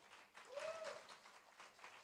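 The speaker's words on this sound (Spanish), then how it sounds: "Aplauda al Señor." A church congregation applauds during a Spanish-language sermon, a soft, diffuse wash of many hands clapping at a distance, fairly faint, with a voice briefly rising above it.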